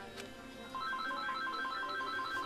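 A phone ringtone chirps in a repeating pattern of short electronic tones, faint and steady against background game music, with no one speaking.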